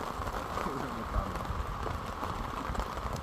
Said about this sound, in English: No let up yet, guys, of this rain.